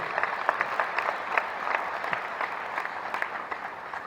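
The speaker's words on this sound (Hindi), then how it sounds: "जोरदार तालियां बजा करके इनका स्वागत करिए" Applause from a crowd welcoming a local legislator at a political rally in Pataudi, Haryana, a steady wash of many hands clapping with individual claps popping out, moderately loud and continuous throughout.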